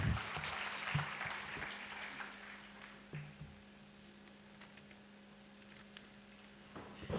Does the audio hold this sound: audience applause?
yes